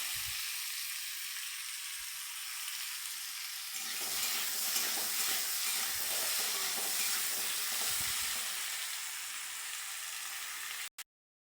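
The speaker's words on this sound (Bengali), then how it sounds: "আলুগুলো ভালো করে ভেজে নেব, নাড়াচাড়া করে।" Potato pieces sizzle steadily in hot oil while being stirred, a close, continuous frying hiss with soft scraping of the stirring throughout, for a fish curry cooked in a home kitchen, ending abruptly.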